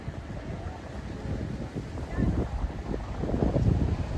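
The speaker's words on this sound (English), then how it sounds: "It's hella windy." Strong wind buffets the microphone in low, rumbling gusts that swell louder toward the end, with faint talk buried underneath.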